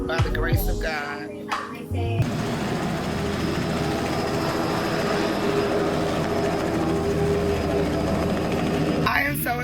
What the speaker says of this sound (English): We are about to get on a helicopter